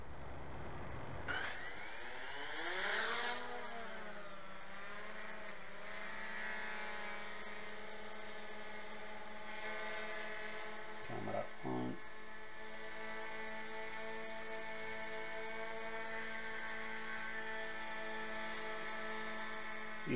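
An XK Detect X380 quadcopter drone spins up its motors and lifts off, its whine rising in pitch and then settling into a steady multi-tone buzz as it hovers nearby, with a brief wavering change midway and no talking.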